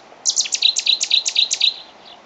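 A Cetti's warbler sings on Samos: one loud, close burst of about eight quick, sharp chirping notes in an even rhythm, then quiet.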